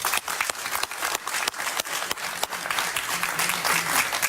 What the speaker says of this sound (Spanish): Un aplauso para Pablo Medina